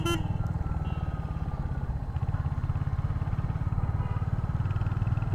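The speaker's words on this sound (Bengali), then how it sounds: "খুব স্মুথলি বাইকটা আগায় যেতেছে।" A Royal Enfield Hunter 350 motorcycle rides along smoothly, its single-cylinder engine giving a close, steady, pulsing thump throughout.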